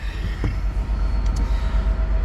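Low rumbling train noise rolls steadily throughout, fairly close, with a constant heavy hum and no voices.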